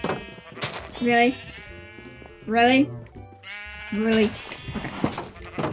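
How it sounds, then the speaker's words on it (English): Three loud, wavering Minecraft sheep bleats spaced about a second and a half apart, close and prominent, with a player's voice speaking briefly between them. "Another yellow sheep."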